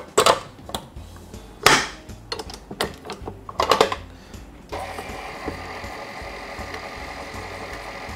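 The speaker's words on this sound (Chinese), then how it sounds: "今天用搅拌机的话，就是用这种扇形的搅拌器下去做搅拌" A stand mixer fitted with a flat, fan-shaped beater runs at low speed, cutting butter into scone dough. A few clattering knocks come first, then a steady, moderately loud motor whir starts partway through and holds to the end.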